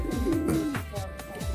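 A male Gondok cross fancy pigeon coos close by, a short series of soft, low, rolling calls in a quick rhythm.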